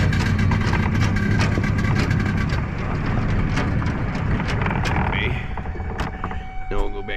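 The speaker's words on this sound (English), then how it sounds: "I hear that two-stroke, that, you know, the crispy sound." Rebuilt Yamaha G1 two-stroke golf cart engine running with a crisp, rattly buzz and ticking, strongest early then easing back, with a voice talking over it at times.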